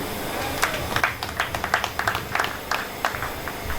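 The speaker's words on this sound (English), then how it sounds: "Please an applause for him" Scattered applause at an installation ceremony, a handful of people clapping in uneven, fairly close bursts over a background murmur of voices.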